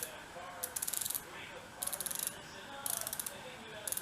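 A hiking shoe's lace dial is cranked closed in quick ratcheting clicks, several bursts of rapid ticks separated by short pauses, faint and close.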